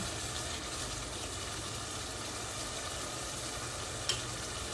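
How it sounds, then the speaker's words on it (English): Meatless efo riro (vegetable stew) fries in a pan with a constant hissing sizzle and faint bubbling, steady throughout with one small pop near the end. "Can you hear that sizzling sound? It is sizzling, it's nice, and it's bubbling."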